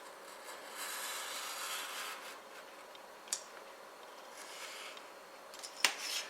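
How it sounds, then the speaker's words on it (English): Card is cut along a ruler while making a pocket slide card, giving a faint, steady scraping glide with a couple of sharp little snips and clicks near the end. "we're going to cut between those two marks once again."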